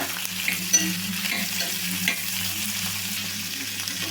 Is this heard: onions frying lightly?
yes